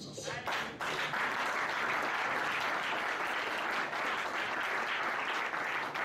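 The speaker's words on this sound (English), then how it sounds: "Clap your hand for Jesus." A church congregation claps hands together in steady, dense applause that fills the room, loud and continuous for several seconds, with a faint voice briefly audible at the start.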